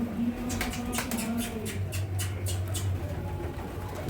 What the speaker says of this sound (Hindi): हाँ जी, ये देखो जोड़ों का कबूतर ये।